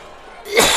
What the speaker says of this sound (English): Man, I apologize for my hacking cough.